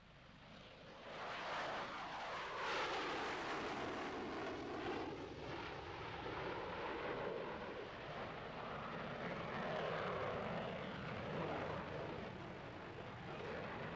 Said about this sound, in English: the aircraft began its first flight